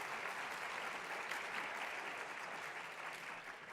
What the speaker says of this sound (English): I'd like to dedicate a round of applause.